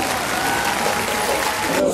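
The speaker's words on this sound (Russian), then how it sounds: "Ваши аплодисменты." Steady applause from a crowd at a cat show, continuous clapping filling the whole stretch without pause.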